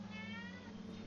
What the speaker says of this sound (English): I heard we were making meows.